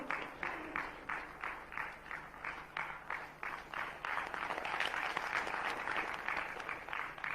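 Audience applause at an indoor gathering, a rhythmic clapping in time for several seconds that swells into fuller, irregular applause, moderately close and without speech.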